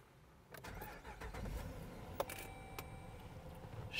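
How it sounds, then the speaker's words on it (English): A 2013 Jeep Grand Cherokee engine starting: a brief cranking whir after a quiet moment, catching into a steady running rumble, heard up close with no talk. "Now we'll want to start the engine"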